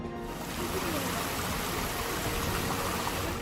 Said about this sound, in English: And water finally flows from taps in Take.